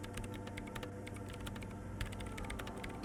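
Rapid keyboard typing as commands are entered into a machine in Disco Elysium, a dense continuous clatter of keystrokes with occasional louder taps, close and steady throughout with no voices.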